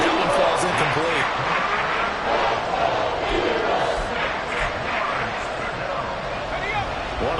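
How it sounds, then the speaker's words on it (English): Football stadium crowd roaring before a big third down, a dense sustained wall of cheering voices filling the scene, loud and steady with shouts rising out of the mass. "The crowd getting into it as we come up on a big 3rd down."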